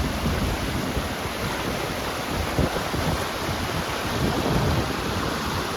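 Strong floodwater rushing past in deep water several feet high beside a broken road in Ludhiana, Punjab, a loud, dense, unbroken roar close by with no voices.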